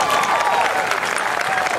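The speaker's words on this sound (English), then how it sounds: "Please join me in a round of applause for these graduates." A crowd at a 2012 Clarkston graduation ceremony claps for the graduates, dense sustained applause filling a large hall, steady and fairly loud with a faint murmur of voices mixed in.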